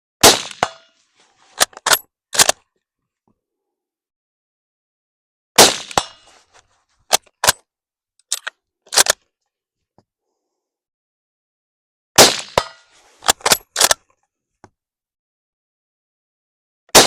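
Yugoslavian M48 rifle fired on hot-loaded Yugo ammunition at 100-yard steel targets at a range. Loud sharp shots come in three clustered volleys, several cracks each, with quiet gaps between them.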